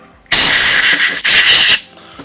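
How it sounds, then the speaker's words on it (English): Compressed air blasts onto a graphics card with thermal paste removed, a loud, close, continuous hiss about a second and a half long with a brief break midway, then it cuts off. "Get a little compressed air."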